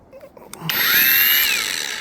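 A power grinder spins up and runs steadily with a high, whining tone, polishing a meteorite, preceded by a few clicks and handling noises.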